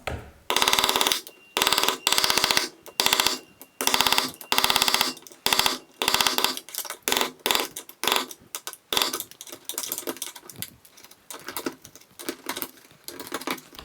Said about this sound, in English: I'm just going to use my same screwdriver here and hammer and just try to chisel that out.